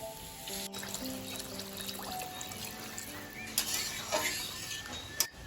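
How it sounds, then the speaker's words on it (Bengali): Water is poured into a cooking pot holding lentils, potatoes, salt, ginger-garlic paste and mustard oil, making a soft trickling pour with faint clinks and some tonal background sounds at low level. "এবার দিয়ে দিব পরিমাণ মতো জল"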